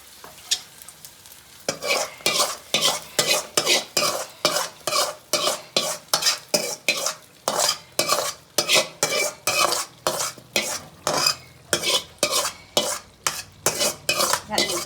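Beef curry stirred in a pot, a loud, close, rhythmic series of scraping and clanking strokes against the metal, repeating steadily after a brief quieter start, with light sizzling underneath.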